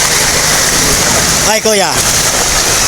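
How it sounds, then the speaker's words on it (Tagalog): Floodwater rushes through a Marikina street during Typhoon Carina, a constant broad roar of flowing water with a short exclamation from a man midway. "Tubig na po yan."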